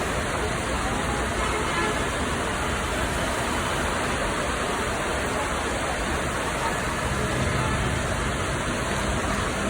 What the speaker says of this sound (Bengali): আমার বারান্দা থেকে আমি দেখতে পাচ্ছি কি পরিমাণে বৃষ্টি হচ্ছে